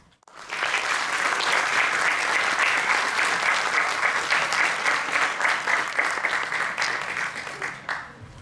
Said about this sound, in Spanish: Recibámosla con un gran aplauso.